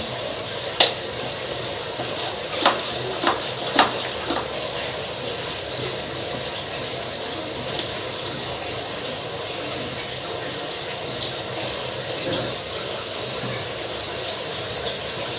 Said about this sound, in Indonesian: setelah kita menanam bibit dari bawang tersebut, tinggal kita siram dengan air